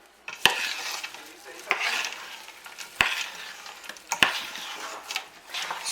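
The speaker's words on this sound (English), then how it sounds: "Chuck them all in. And mix it all really well." A spoon stirs a thick melted white Christmas slice mixture in a bowl, giving soft scraping and mixing sounds broken by four sharp knocks against the bowl at roughly one-second intervals, close up with no voices.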